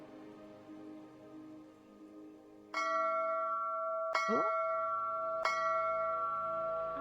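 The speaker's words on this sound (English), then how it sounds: "There's my bell." Three bright metallic bell strikes ring out in a video game, each sustaining and overlapping, over quiet ambience with a brief voice.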